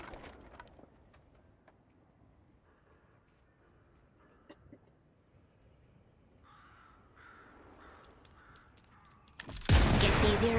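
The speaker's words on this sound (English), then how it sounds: "Summoning crows." Summoned crows caw in the video game Deadlock, a scatter of faint, distant-sounding caws and ticking game effects that end in a sudden loud, dense burst of noise.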